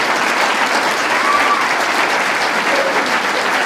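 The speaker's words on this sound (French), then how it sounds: "Là, vous pourriez l'applaudir" An audience at a French-language religious talk breaks into steady, dense applause that fills the whole stretch at a constant, loud level, with no pauses or individual claps standing out.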